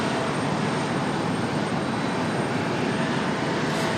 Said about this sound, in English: Next arrival, we've got Republic Airways 4436. This one coming in from LaGuardia